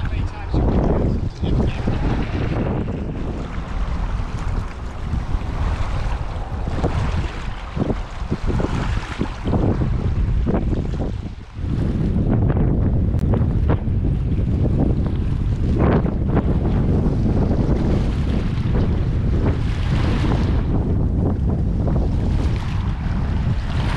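Strong wind buffeting a boat while trout fishing on the north shore of Big Bear Lake: loud, continuous gusty roar and rumble with water sounds, sustained throughout.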